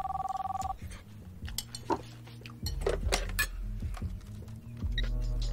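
A telephone rings in a home kitchen, a short electronic burst at the start. Dishes and cutlery clatter afterward, with low background hum and no speech.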